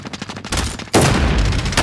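Gunfire in the Warzone battle royale video game, set in Verdansk 1984, with a dense burst of shots that grows sharply louder midway and continues as sustained, close, rapid firing.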